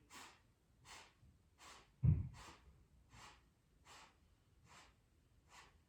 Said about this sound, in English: we're just going to do a few little Kundalini breath controls here